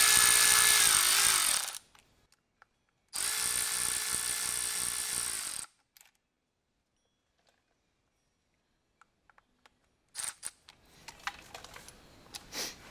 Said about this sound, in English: So I'm going to use my ratchet to get them all on quickly.